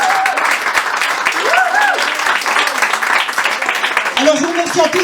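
Sustained applause from the audience at a 60th birthday celebration, a dense even clatter of many hands running throughout while voices call out and speak over it.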